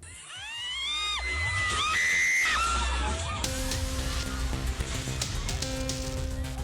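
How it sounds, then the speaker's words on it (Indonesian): Panicked, hysterical screams rise from a crowd as an ombak banyu ride collapses at a night market fair in Purworejo, Central Java, loud shrill cries overlapping for several seconds before giving way to a steadier crowd din. "Jeritan histeris dan teriakan panik terdengar saat wahana ombak banyu di sebuah arena pasar malam tiba-tiba roboh"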